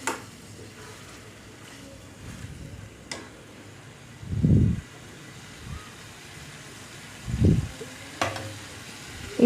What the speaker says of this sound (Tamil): சேர்த்து நல்லா கிளறி விட்டுட்டு